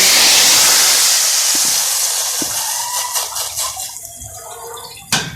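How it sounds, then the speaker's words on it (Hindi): A loud, hissing sizzle as hot tadka tempering hits the dal, slowly fading over several seconds, with a sharp spitting burst near the end. "ये हमने लगाया दाल में तड़का।"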